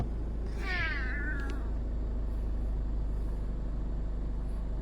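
A cat gives one short, rising meow early on, over a constant low rumble of traffic or an engine in the background.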